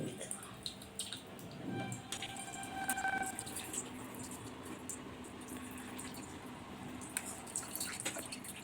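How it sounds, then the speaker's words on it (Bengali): Water drips and trickles as fresh chhena cheese curds are strained in a home kitchen, with a faint clink and someone speaking softly under the sound. "ছানাটা ছেঁকে জলটা বার করে ফেলে দিচ্ছি।"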